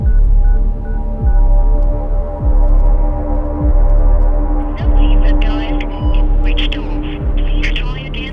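A telephone call keeps failing to connect because the phone is switched off, heard as a steady low electronic hum with a rhythmic throb repeating about every second and some faint tones over it.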